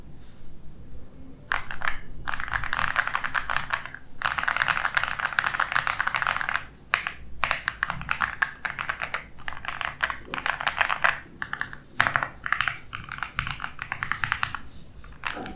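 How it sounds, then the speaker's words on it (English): Typing on an AULA F75 gasket-mount mechanical keyboard, with rapid, close, dense clacking in bursts separated by brief pauses and no talking. "Typing and sound test."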